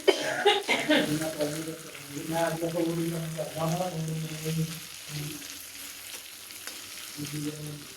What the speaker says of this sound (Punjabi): ਗੋਬੀ ਥੱਲੇ ਤਾਂ ਲੱਗ ਗਈ ਨਾ ਕੜਾਈ ਵੀ ਨਾਲ ਹੀ ਹਿੱਲੀ ਜਾਂਦੀ ਹੈ